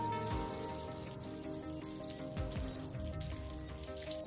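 Mixed vegetables salted and frying in oil for a vegetable pulao, a soft continuous sizzle with occasional stirring scrapes, fairly quiet and steady with no voices.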